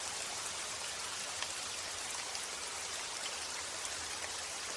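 Rain falls outdoors in a soft, continuous hiss with faint scattered drops, fairly quiet and unchanging, without any speech.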